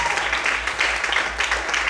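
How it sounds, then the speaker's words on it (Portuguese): A church congregation applauds loudly in praise during a sermon, a dense continuous wash of clapping over a low hum. "aplauda e exalte ao Senhor bem forte"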